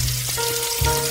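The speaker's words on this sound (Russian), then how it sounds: "их надо сначала выкладывать на разогретую сковородку швом вниз" Stuffed rolls fry seam-side down in a heated pan, giving a steady close sizzle with low bubbling and a faint hum underneath.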